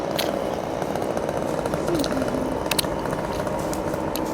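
A chainsaw runs steadily at a distance near a rail depot in Ogden in midwinter, a continuous buzzing drone with background noise throughout.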